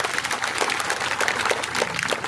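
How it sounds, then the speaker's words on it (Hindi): Loud, dense applause from a crowd at a rally in Jhunjhunu, sustained clapping that carries evenly from start to finish. "अगर यह बात सही है तो जोरदार ताली बजा के बताओ।"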